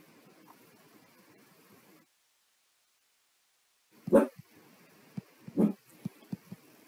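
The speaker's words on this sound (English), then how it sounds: "that's my dog, Sadie McGrady." A dog barks outdoors in a few sharp, loud bursts after a quiet stretch, with a low hum of background noise beforehand.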